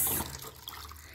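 Water poured into a container while making liquid laundry soap for white clothes, a steady close rushing stream of liquid filling, with no talking.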